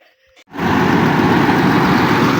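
Inside the cab of a Claas Axion 850 tractor, a brief quiet moment with a faint click gives way to a loud, steady, low engine rumble that surges up and then holds evenly to the end.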